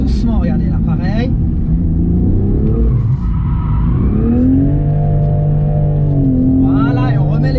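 Toyota GR Supra drifting and slowing, its engine droning loud and steady with rising and falling pitch as it eases off, close up, with someone talking over it.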